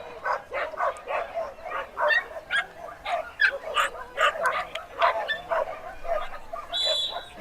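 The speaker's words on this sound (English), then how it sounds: "Suddenly getting very barky around here." Several dogs bark and yip repeatedly at a dog agility competition, a rapid run of close, loud barks filling the whole stretch, with a faint voice briefly underneath.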